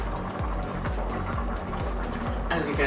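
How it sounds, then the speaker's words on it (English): Potatoes boil hard in a pot of water, giving a steady, dense bubbling and churning that carries on without a break at close range. "as you can hear, my potatoes are furiously boiling"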